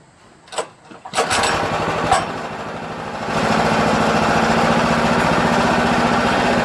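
A Predator 212 Hemi small engine gets a couple of pulls, catches and starts, then settles into a loud, steady close-up running drone with a rapid firing buzz. No one talks.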